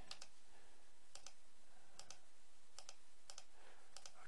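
Quiet computer keyboard keystrokes in short clusters of two or three sharp clicks, spaced about a second apart, like quick shortcut presses for select all, copy and delete, with no voices.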